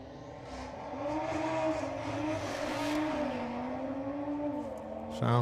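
An Audi drag racing car launches from the start line at the STP Sportsman Nationals. A loud, sustained engine roar climbs and wavers steadily for several seconds, with a brief sharp burst at the very end.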